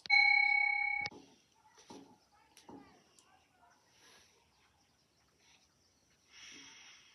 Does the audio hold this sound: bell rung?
yes